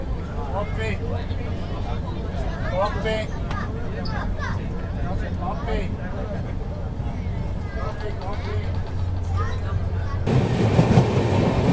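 A packed Bangalore to Chennai double decker train running, steady rumbling wheel and carriage noise with a babble of passengers' voices throughout, the clatter growing louder and harsher near the end.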